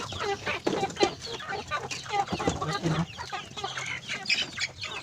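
Dense, steady clucking from a flock of chickens, many birds calling over each other at close range, with no talking.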